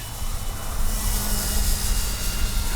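An RC F4U Corsair warbird model airplane passes low down a runway on a windy evening, its engine a steady, fairly loud whine over wind noise with no pause.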